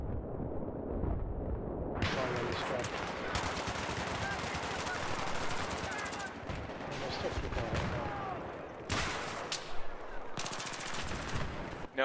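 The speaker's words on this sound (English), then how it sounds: "he was using a fucking mortar" Mortar fire during Battlefield 3 multiplayer on the Tehran map: a loud, continuous wall of booming blasts mixed with rapid gunfire that surges and drops over the whole stretch.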